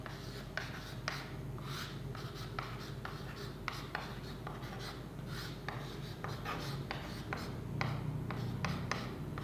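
Chalk or marker writing on a board, steady scratchy strokes with regular taps and pauses, close and fairly quiet, a voice faintly present.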